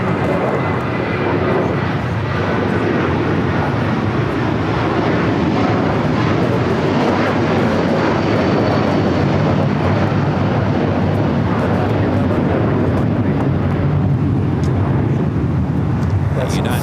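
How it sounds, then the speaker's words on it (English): A United Boeing 757 bound for Honolulu at LAX gives a loud, steady jet roar that holds level and unbroken, with wind buffeting the microphone throughout. "United 757 at 300 heading to Honolulu, flight 1224"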